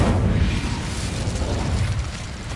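A blazing Incendio fire spell from the video game Hogwarts Legacy, a loud, sustained roaring whoosh of flame that fills the moment close up without pause.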